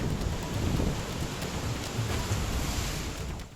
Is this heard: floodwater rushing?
yes